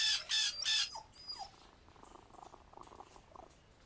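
A cat purrs in the Sherlock Holmes vs. Jack the Ripper video game, a soft low rumble running under a few short bright tones at the start, quiet and close.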